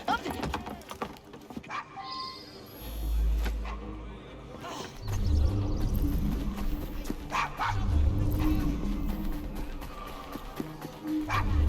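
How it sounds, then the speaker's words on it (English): A dog in the Victorian London streets of Assassin's Creed Syndicate gives a few short barks amid clopping hooves, carriage rumble and a busy street, with voices talking now and then. "Nice doggy."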